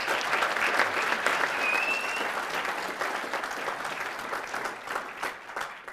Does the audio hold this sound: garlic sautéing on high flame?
no